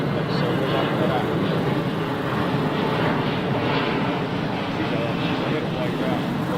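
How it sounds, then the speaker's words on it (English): An Air Tahiti Nui Boeing 787 jet comes in to land on the southern runway, heard as a steady, broad, continuous engine roar at moderate distance with no pauses. "Air Tahiti Nui 787 landing on the southern runway."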